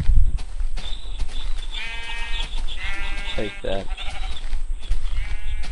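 Black sheep in Minecraft bleating in several drawn-out, wavering calls, loud and close, with a person talking over and between them.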